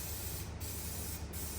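Spray adhesive hisses in a continuous steady stream onto the headliner of a first-generation Dodge truck, close and even for about a second and a half, with brief dips as the can moves.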